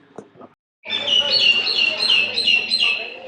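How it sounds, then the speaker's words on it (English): Birds singing outdoors, bright chirping and warbling phrases that start abruptly after a short pause and carry on close and loud, preceded by a couple of soft sounds. "Oh, lovely bird song."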